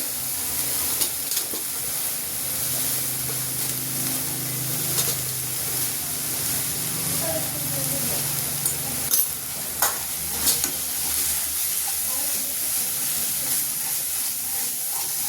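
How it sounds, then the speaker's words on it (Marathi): Pieces for chicken biryani fry and sizzle steadily in hot oil, a loud continuous hiss with occasional stirring scrapes and clinks, close up. "असं तेलात परतून घ्यायचं चांगलं"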